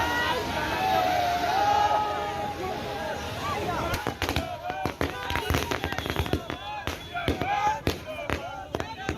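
Fireworks set off by RJD supporters celebrating in Sitamarhi, Bihar, starting after a steady crowd hubbub and turning into a rapid string of sharp firecracker bangs and crackles over the murmur of voices.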